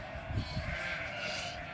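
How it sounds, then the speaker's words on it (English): Lambs bleating faintly while being herded on a farm, soft overlapping calls over steady outdoor background noise. "we're out here herding some lambs"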